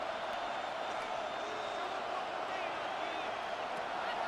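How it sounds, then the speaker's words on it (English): Steady stadium crowd roar at an American football game between Detroit and New Orleans on a third-and-eight play, a dense continuous wash of noise with broadcast commentary over it. "this crowd making it hard to hear"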